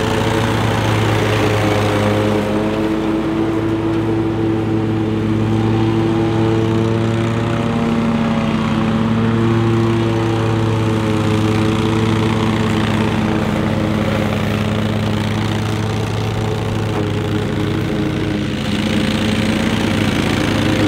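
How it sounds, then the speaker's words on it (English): A 2022 Exmark Vertex riding lawn mower engine runs loud and steady at close range while mowing grass for the whole stretch, a constant mid-pitched drone with slight wavering, no voices. "We're gonna show you guys some mowing footage."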